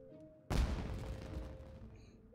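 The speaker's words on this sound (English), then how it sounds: "Was that an explosion?" Sudden loud explosion in the Genshin Impact video game, one sharp boom that decays into a long rumbling tail, with faint quiet tones before and after.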